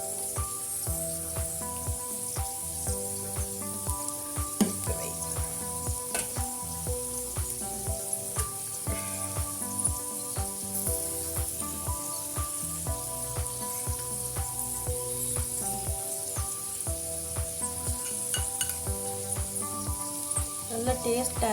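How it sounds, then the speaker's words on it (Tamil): Potatoes fry in a pan with ground masala powder just stirred in, a steady loud sizzle running throughout with occasional scraping stirs. "நான் இப்போ அரைச்சி வச்சிருக்கிற இந்த மசாலா பவுடரை போடுறேன்"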